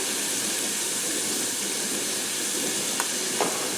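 Garlic and vegetables sizzle quietly in a pan for a classic lasagna, a soft steady frying hiss with a couple of faint utensil taps near the end, no speech.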